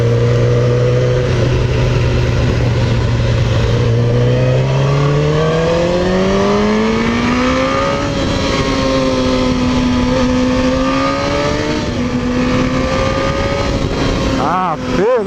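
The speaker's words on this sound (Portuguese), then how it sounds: "a moto aqui é muito boa de andar" A GSX1000RR sport motorcycle under way, its engine rising through the gears in repeated climbing sweeps and shifts, loud and close over steady wind noise, with voices talking over the ride.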